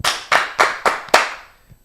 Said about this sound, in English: 5 claps. Ready. 5 claps. Ready.